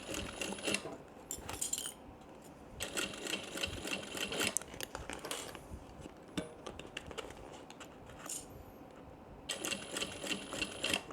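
A sewing machine stitches a tote bag with a recessed zipper, running in rapid rattling bursts with short pauses between runs, up close and with no voices.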